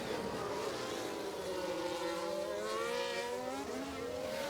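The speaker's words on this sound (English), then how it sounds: "So now let's watch Albon try and overtake Vettel." Formula One cars in the F1 Manager 22 video game scream past in an overtake at the Circuit of the Americas, their high engine notes rising and sweeping in a dense, continuous roar.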